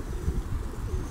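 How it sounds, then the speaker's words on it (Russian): Pigeons coo low and throaty in a city street, soft overlapping rumbling calls close by, with no talking. "Скажите, в вашем городе такие же наглые голуби"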